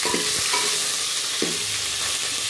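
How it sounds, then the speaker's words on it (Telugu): Curry leaves drop into hot oil with a couple of soft crackling bursts over a loud, constant sizzle. "కొంచెం కల్లేమాకు వేసుకుందాం."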